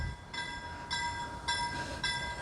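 A closed railway crossing on a rural country road in Sweden as a train passes, with four evenly spaced, ringing tonal pulses over a low rumble, heard from a moderate distance without speech.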